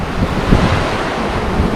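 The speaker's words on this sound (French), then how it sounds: "depuis qu'on est parti, nous avons beaucoup de houle" Ocean swell and breaking waves rush steadily during a transatlantic sailing crossing, with gusty wind buffeting the microphone throughout.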